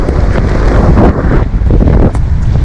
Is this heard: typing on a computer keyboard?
no